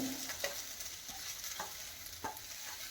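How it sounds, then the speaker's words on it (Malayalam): Chicken thoran, a Kerala stir-fry of shredded chicken, being mixed in a pan, with soft intermittent scraping and stirring strokes over a faint low sizzle, no voices. "അപ്പോൾ നമ്മുടെ ഒന്ന് മിക്സ് ചെയ്യുക നന്നായിട്ട്."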